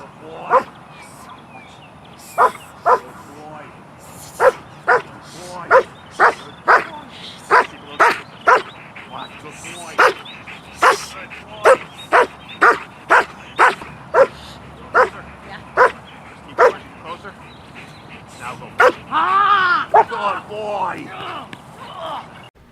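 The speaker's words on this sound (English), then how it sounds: "We want to see an immediate barking response, aggressive response towards without the equipment on." A protective dog barks aggressively at a stranger in public, sharp loud barks repeated in an uneven rhythm of single and doubled bursts, close by, ending in a flurry of yips and whimpers.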